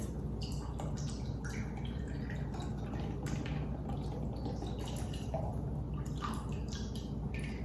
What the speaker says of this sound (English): we're going to add about a cup of beef broth